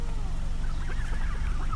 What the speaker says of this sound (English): We got some duck.